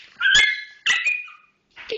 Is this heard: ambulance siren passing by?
no